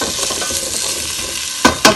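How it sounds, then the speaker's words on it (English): Pumpkin sizzles steadily while sautéing in a pan, with soft stirring scrapes and two sharp utensil knocks against the pan near the end. "so here's the pumpkin sautéing along, which is pretty good."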